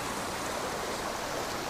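A stream of very cold water rushing steadily over a natural, changed landscape, a constant, even wash of water noise with no voices.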